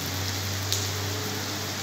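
Steady rain falls in Ribeira do Pombal, Brazil, a constant close hiss with one brief louder drip.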